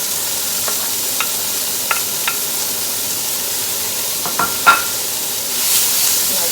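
Onions fry in olive oil in a hot pan, a steady low sizzle with several light clicks and scrapes of a utensil, then a brief louder hiss near the end; no one speaks.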